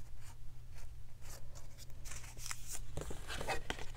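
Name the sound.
creasing paper with a bone folder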